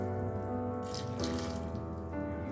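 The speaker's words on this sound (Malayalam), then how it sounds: "ഉപ്പ് വേവാൻ വേണ്ടിയിട്ട് നമുക്ക് ആവശ്യത്തിനുള്ള വെള്ളം ഒഴിച്ചു കൊടുക്കാം." Water runs steadily from a tap into a pot for a Kerala-style dal curry with tomato and green chillies, a continuous close splashing stream that shifts in tone as the pot fills.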